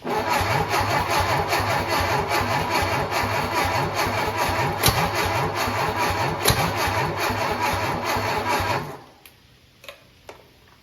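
An MGB parts-car engine sitting on a shop floor cranks in a fast, steady, rhythmic chug for about nine seconds without catching, then cuts off, leaving a few faint clanks in a quiet room.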